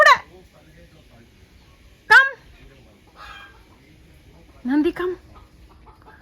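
Chickens cluck in a few short, separated bursts, fairly close, with quiet gaps between them, while a voice calls out to a dog nearby.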